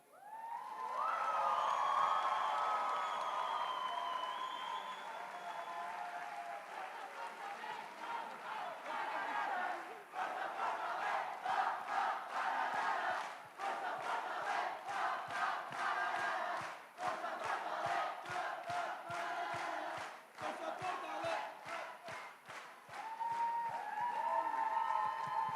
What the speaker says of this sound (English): Please, please, don't stop cheering, don't stop cheering.